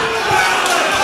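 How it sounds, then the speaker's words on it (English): A crowd at an MMA cage fight cheers and roars loudly and continuously through a brief moment, with a commentator's voice mixed in. "See here, the crowd loving this bout."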